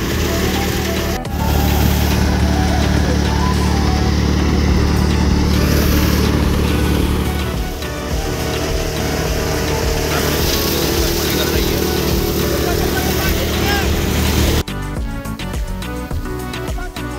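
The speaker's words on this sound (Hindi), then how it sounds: "आप देख सकते हो थ्रेसर चालू हो चुकी है सरसों निकलने के लिए।" A tractor-driven thresher runs while threshing mustard, a loud continuous roar of engine and machinery that shifts in tone partway through, with a voice speaking over it.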